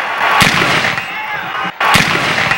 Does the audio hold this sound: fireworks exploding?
yes